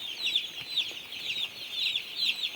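Day-old broiler chicks chirp continuously in a dense, high-pitched chorus on their first day, many overlapping peeps close by without pause.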